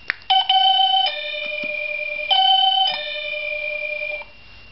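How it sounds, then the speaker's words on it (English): A SadoTech Starpoint Gen1 long-range wireless doorbell plays a bright two-tone ding-dong chime twice in a row, each tone ringing out and decaying, loud and close with no voices. "find the right doorbell tone that you want"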